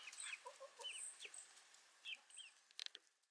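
Several chickens cluck and murmur softly nearby in scattered bursts, with a few sharper clicks and rustles toward the end.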